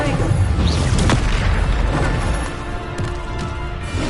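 Booming spell blasts from the video game Hogwarts Legacy's Bombarda explosion, loud crashing impacts with sharp bursts over a rumbling battle din, with a voice speaking among them.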